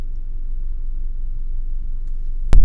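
Kia ProCeed 1.4 GDI hatchback with 138 bhp and a manual gearbox, driving on the road: a steady low engine and road rumble, fairly close and even, with a sharp louder thump at the very end.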